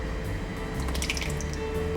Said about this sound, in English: I will also be adding on just a little bit of water for now